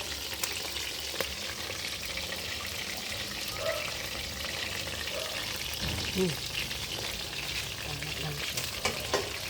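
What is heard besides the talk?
stirring chicken tinola sizzling in the pot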